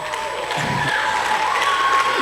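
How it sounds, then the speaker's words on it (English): Audience applause and cheering at a televised student debate event in Nigeria, a steady wash of clapping lasting a couple of seconds at moderate loudness. "round of applause too for the management and staff of Edu TV"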